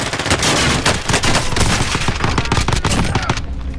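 Dense, rapid gunfire from the Call of Duty Warzone video game, Zombie Royale mode, with loud overlapping bursts of shots firing continuously throughout.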